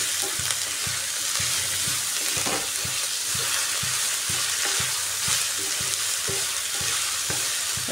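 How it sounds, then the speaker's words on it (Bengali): Onions salted and frying hard in a pan over full gas heat, a continuous loud sizzle with a regular rhythm of utensil scrapes and knocks as they are turned, no voices. "এক্ষেত্রে গ্যাসের হিটটা ফুল রেখে পেঁয়াজটাকে আমি ভালো করে ভেজে নিচ্ছি।"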